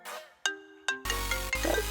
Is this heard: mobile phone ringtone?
yes